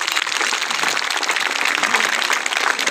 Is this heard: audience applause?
yes